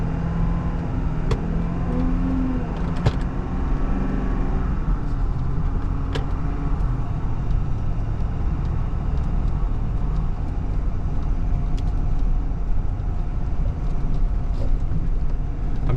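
A 2023 Ford F350 Tremor pickup truck drives across sand dunes, its steady engine rumble and off-road rolling noise continuous and fairly loud throughout, with occasional knocks and rattles from the cab.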